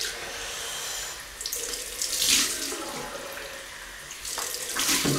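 A bathroom tap runs steadily into a sink for a cold rinse after a shave, a close, even gush of water with slight splashing shifts as hands move through the stream, and no talk.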